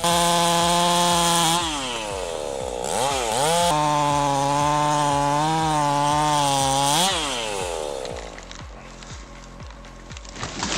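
A ported 100cc Husqvarna chainsaw cuts through dense Australian peppermint wood, its engine screaming loud and close with pitch swings as it bogs and revs, then dropping to a rough idle near the end.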